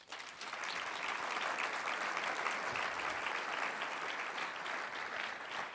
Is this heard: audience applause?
yes